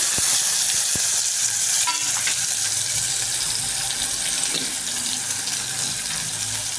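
Tomato and masala paste frying in a pan for a chickpea bhaji, giving a steady broadband sizzle with a few faint clinks of stirring throughout.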